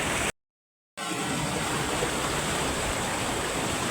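River water rushing over rocks, a steady broadband roar that is briefly cut to silence near the start, then continues evenly to the end with no voices.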